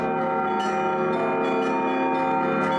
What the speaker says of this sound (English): These bells ringing